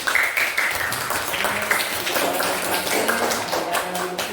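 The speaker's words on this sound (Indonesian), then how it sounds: "Ya, tepuk tangan untuk kelompok 4 ya." Schoolchildren in a classroom clap for a group, a busy, uneven patter of many hands that keeps going throughout at a fairly close distance.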